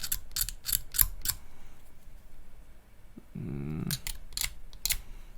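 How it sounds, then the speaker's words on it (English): A resin art-toy cast being scraped down during cleanup, with short repeated scraping strokes in bursts, a pause, then a brief buzzing mechanical whir before more scraping strokes, all close and moderately loud. "So I'm just gonna scrape that down."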